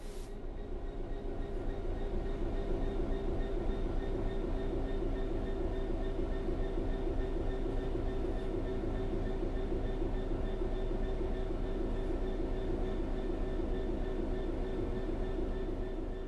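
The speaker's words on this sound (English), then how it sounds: "The train will then coast on level ground" A steady low rumble of a train coasting on level rails in Train Sim World 3, with a constant mechanical drone and faint rhythmic clatter, unbroken and without voices.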